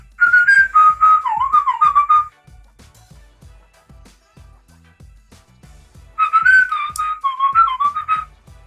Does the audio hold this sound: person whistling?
yes